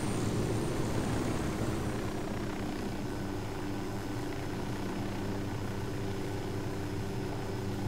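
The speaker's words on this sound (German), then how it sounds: "Weil da ist ja auch ein Hubschrauber da vorne." Helicopter in the video game Ghost Recon Wildlands, a steady, moderately distant rotor and engine drone holding evenly throughout with no talk.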